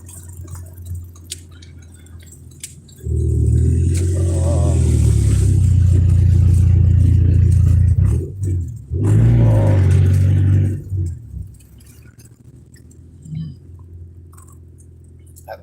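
Busy road traffic passes close by, with two loud rumbling surges from vehicle engines and tyres that swell and fade, separated by quieter background stretches.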